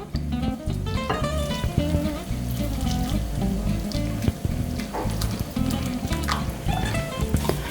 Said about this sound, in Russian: необходимо просто налить кипяток